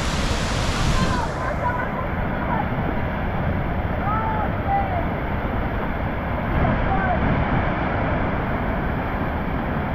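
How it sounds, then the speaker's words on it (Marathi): Nanemachi waterfall in the Sahyadri hills, seen up close in monsoon rain, gives a loud, steady roar of rushing water with a constant broadband rumble and no pauses. "जो धबधबा एवढ्या वेळापासून आपण दुरून पाहत होतो, डायरेक्ट जवळ आलो त्याच्या."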